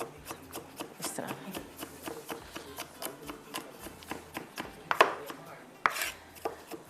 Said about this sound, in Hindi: गार्लिक को चॉप कर लीजिएगा।